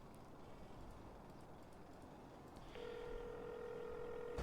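Payphone handset tones in a GTA role-play game, a steady ringback tone starting partway through over faint background hiss, no talking.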